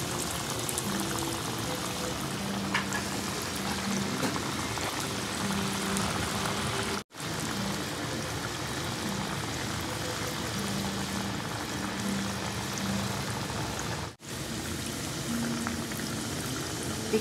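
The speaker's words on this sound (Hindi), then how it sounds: "अब हम डालेंगे इसमें ये टिक्की। धीरे धीरे डालिएगा वरना ये फूट सकते हैं।" Semolina tikkis for a crispy suji rasbhari sweet fry in hot oil, making a steady, dense bubbling hiss that runs unbroken except for two brief dropouts. No voices are heard.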